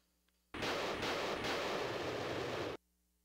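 A dragon cannon fires in a video game, a single loud, broadband roaring blast lasting about two seconds that starts and stops abruptly, with nothing else heard around it.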